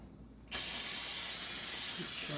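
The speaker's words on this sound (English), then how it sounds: "So I'm going to spray this." Cooking spray hisses into a bread pan in one loud, steady burst that starts abruptly after a short quiet moment and continues to the end, with no talking.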